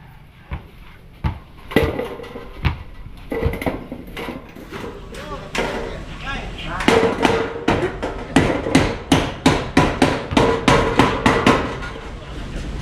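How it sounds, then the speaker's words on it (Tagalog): Hammer blows strike a roof under construction, at first scattered and uneven, then a fast steady run of loud, sharp knocks near the end. "Martilyo pa ako."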